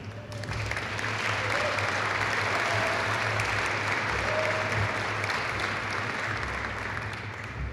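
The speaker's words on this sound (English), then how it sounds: "Let's have a round of applause for our" An audience at an airman recognition ceremony breaks into loud, sustained applause, a dense wash of many hands clapping that carries steadily from start to finish.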